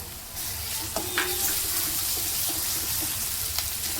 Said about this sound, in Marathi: लालसर होईपर्यंत कांदा आणि लसूण भाजून घेऊया.